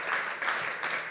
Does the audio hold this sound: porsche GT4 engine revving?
no